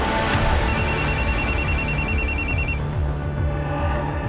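Telephone ringing in a Hindi crime drama: a rapid electronic trill repeating for about two seconds and then stopping abruptly, over a dense background music bed.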